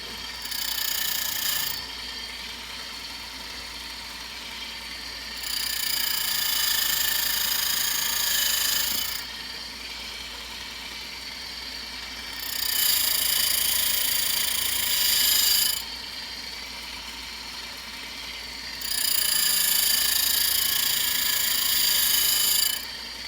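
A grinding wheel, dressed sharp, working a spherical end on a metal part, whining steadily with a bright high tone in four separate passes, each lasting several seconds, while a low mechanical hum fills the pauses.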